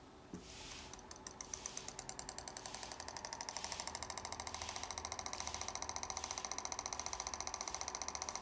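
A Keppe motor spinning freely with no propeller fitted, building into a fast, even, mechanical pulsing whir that holds steady and close throughout.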